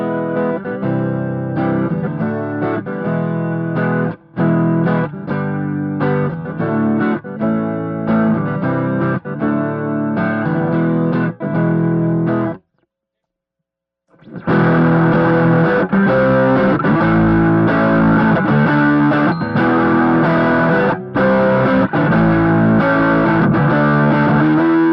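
Loud distorted electric guitar through an Orange Rocker 30 amp's dirty channel and an MG speaker, chugs and riffs, pausing briefly to silence before crashing back in even heavier and brighter.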